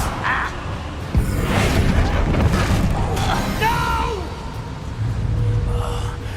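Fiery Incendio spell blast in Hogwarts Legacy, cast inside a mine, a sharp burst followed by a roaring whoosh of flame amid busy game effects and voices.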